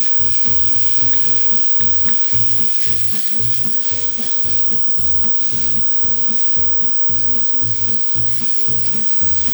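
Finely diced shallots fry over medium heat in a pan for a deer liver pâté, a loud, continuous crackling sizzle with faint stirring scrapes underneath, no voices.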